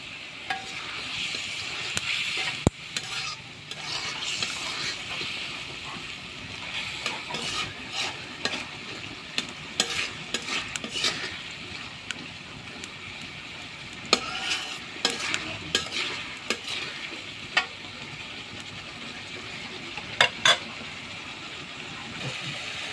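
Fish curry with shing or kanchh fish being stirred and fried in a pan: a steady sizzle of hot oil runs throughout, punctuated by frequent scraping and clinking strokes of a spatula against the pan, close and continuous.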